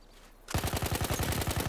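Automatic gunfire in a video game battle, a sudden burst of rapid evenly spaced shots starting abruptly after a brief quiet moment, loud and close, firing continuously to the end.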